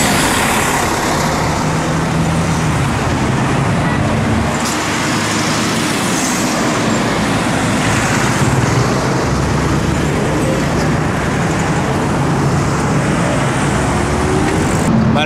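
Constant roar of heavy street traffic in Tehran, Iran, engines and tires blending into a dense, loud wash with occasional passing vehicles nearby.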